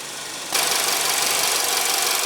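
A 2016 Volkswagen Jetta's 1.8-liter turbocharged inline four-cylinder engine settles into a steady, loud idle after a sudden onset, a constant close hum with no voices.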